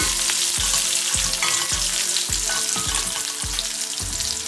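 Garlic frying in oil for a Sri Lankan Tamil beans and potato milk curry makes a steady, loud sizzle with a run of sharp, regular scraping knocks from stirring.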